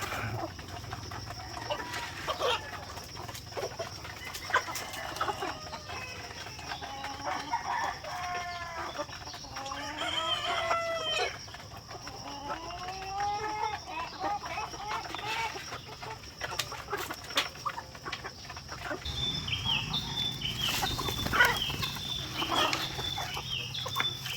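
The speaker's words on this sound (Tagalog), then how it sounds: "So nandito sa kabila yung ating mga heritage chicken." Heritage-breed chickens clucking and murmuring in a farmyard, with scattered squawks and a rooster crowing toward the end, at moderate distance over a low background hum.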